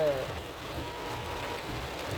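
Heavy monsoon rain falls on a flooded Delhi street near a market with a steady, dense hiss of water. Faint background voices sit under the rain.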